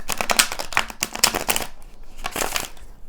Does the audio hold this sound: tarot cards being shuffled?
yes